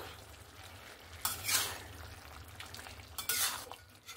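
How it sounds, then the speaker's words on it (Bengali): A spoon stirs jackfruit and prawn curry with garam masala in a pan, making two soft scraping, sizzling bursts of mixing against a low background hiss. "দিয়ে ভালো করে মিক্স করে নেব"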